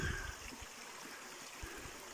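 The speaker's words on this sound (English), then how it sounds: "Close-up of said waterfall." A waterfall at Loch Ness pours in a steady, hissing rush, with a few low thumps and gurgles beneath the constant spray, no voices.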